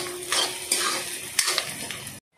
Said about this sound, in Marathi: आता आपण या फोडणीत घालतोय आलं आणि लसूणची पेस्ट, ती पण चांगली आपण परतवून घेऊ